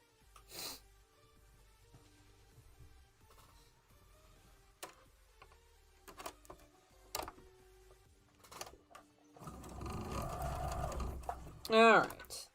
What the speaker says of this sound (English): last piece here to sew up these strips